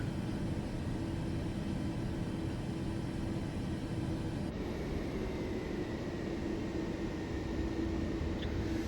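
A simulated airplane taxis in Microsoft Flight Simulator 2024, played in VR, giving a steady, close engine drone with a constant low hum and even loudness throughout, with no voices.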